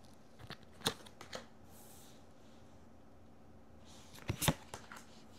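Tarot cards are being shuffled and handled in a quiet room, giving two short bursts of soft papery riffling and taps with a gap of near silence between them.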